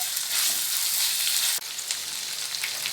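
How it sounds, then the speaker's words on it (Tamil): Salted ivy gourd pieces fry in oil for a poriyal, giving a close, steady, bright hiss of sizzling. A brief dip near the middle suggests a stir, then the sizzle carries on alone. "இதை அப்படியே கலந்து கொடுத்துட்டு இந்த எண்ணெயிலே கோவக்காய் வதங்கி வரட்டும்."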